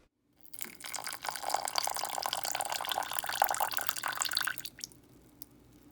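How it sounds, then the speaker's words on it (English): Hot water pours onto instant coffee and sugar in a cup for Dalgona coffee, a close, steady splashing trickle lasting about four seconds before stopping. "we're going to add the hot water"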